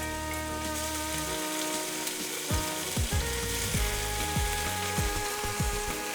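Ginger, garlic and green chilies frying in a pan for Kerala-style duck mappas crackle in a loud, dense sizzle, joined partway through by repeated spatula strokes and scrapes in a steady stirring rhythm.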